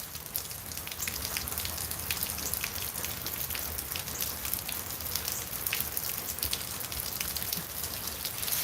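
Steady rain pours down outdoors at dusk, a dense continuous hiss with scattered close drops pattering on surfaces throughout, no voices over it.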